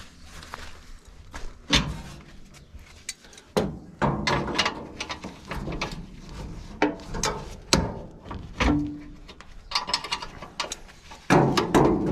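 A wrench works a nut during clutch repair on a T-40 tractor. Irregular metallic clicks, ratcheting and clanks come close and at moderate level, scattered through a quiet workshop without speech.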